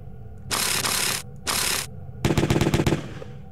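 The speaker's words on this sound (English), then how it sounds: "Alright, we got like a chain gun going on here." A chain gun firing in the Jazzpunk video game: two sustained roaring bursts, then a rapid rattling string of individual shots, loud and close, with no speech.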